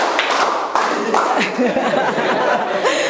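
A group performs a rhythmic clapping game, irregular bursts of hand claps and thumps close by, mixed with chatter and light laughter from the participants.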